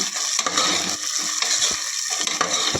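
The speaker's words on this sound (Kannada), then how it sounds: "ಈರುಳ್ಳಿ ಸ್ವಲ್ಪ ಫ್ರೈ ಮಾಡೋಣ" Chopped onion sizzles steadily in hot oil in a pan while a spoon or spatula stirs it, with repeated scraping strokes over a continuous crackling hiss, close and fairly loud, no voices.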